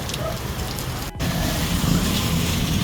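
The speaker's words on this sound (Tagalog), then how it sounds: "Hindi pa rin tapos yung ulan." Heavy rain during Typhoon Carina flooding in Banawe, Quezon City, falls as a dense, loud, continuous broadband wash with a brief dip in the middle, and no one speaks.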